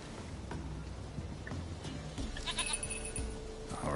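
A goat bleats several times in The Witcher 3 video game, short wavering calls over soft ambient background, with a faint bell-like tinkle toward the end.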